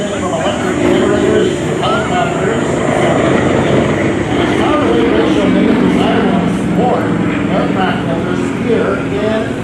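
A Pitts Model 12 aerobatic biplane performs at the 2023 Canadian International Air Show, its radial engine droning loud and steady throughout, with a commentator talking over it.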